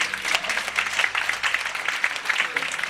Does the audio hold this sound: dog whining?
no